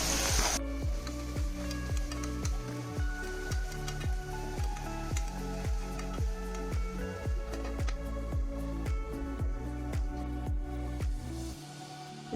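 Peas and mushrooms frying in a pan: a steady, close crackling sizzle with rhythmic scraping strokes of stirring repeating about every half second, fading slightly at the end.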